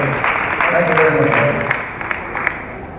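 A university conference audience at UNILAG's 2024 International Week applauds to welcome Professor Afolabi Leshi. Sustained clapping with a voice speaking over it fades slightly toward the end.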